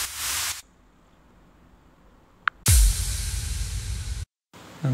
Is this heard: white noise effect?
yes